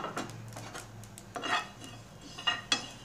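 Fried spices and black cumin are stirred together in a pan, producing quiet scraping and clinking of a utensil against metal in a handful of brief strokes, with only a faint trace of sizzle.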